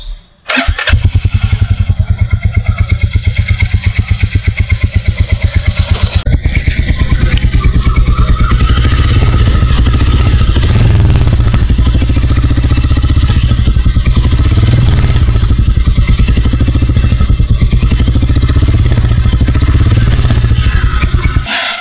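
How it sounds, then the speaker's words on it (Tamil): A 2024 Royal Enfield Classic 350 motorcycle starts up and settles into a loud, steady single-cylinder idle with a rhythmic thumping beat, close by and continuing for about twenty seconds with no talking. "இன்ஜினை வந்து நம்ம லைட்டாக ஸ்டார்ட் பண்ணுவோம்."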